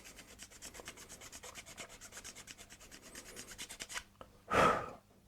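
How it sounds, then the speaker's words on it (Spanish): A file rasps back and forth over a McLaren 720S GT3 slot car part, held flat to keep the piece from deforming. The strokes are steady, close and quick, and one louder burst of noise ends the run. "Intentar limar lo más plano posible para no deformar la pieza."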